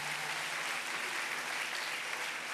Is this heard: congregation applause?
yes